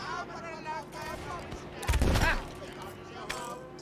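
A short burst of gunfire in the pirate video game Sea of Thieves, one loud blast cluster near the middle, heard amid players talking over game background sound.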